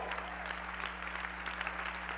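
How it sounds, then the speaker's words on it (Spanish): A church congregation applauds in a faint, continuous wash of distant clapping, heard over a low steady electrical hum. "Dele un aplauso al Rey."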